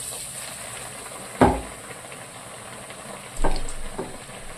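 Bread pakora slices coated in gram flour on both sides are lowered into hot oil, giving two sharp sizzling hisses that each flare up and then fade into a quieter background.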